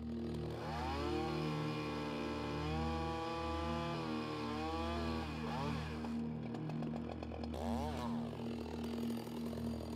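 Chainsaw cutting into a felled tree during bucking, a loud sustained engine whine with pitch dips and rises as the bar bites into the wood, close and continuous.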